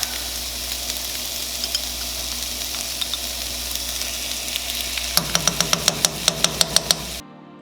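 Red peppers and a tablespoon of garlic sizzle steadily in a hot pan for cashew fried rice, a dense continuous hiss, followed near the end by a quick run of sharp rhythmic clacks from stirring before it cuts off.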